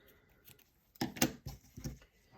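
Scissors snip through petal-pink scalloped ribbon while a gift bag is decorated: a few crisp, close cuts in a short irregular cluster after a quiet start.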